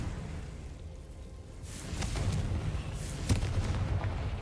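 A Confringo fire spell from the Harry Potter world blasts in a video game, with a muffled boom near the start and a sharper crack about two thirds through, over a low rumbling background.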